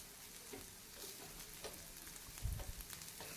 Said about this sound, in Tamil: பாருங்கள், எல்லாமே ஒரே மாதிரி தான் ஃப்ரை ஆகிட்டுருக்கு.